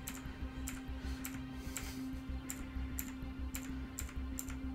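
Steady clicking of typing on a computer keyboard, with evenly spaced, fairly close keystrokes over a low constant hum.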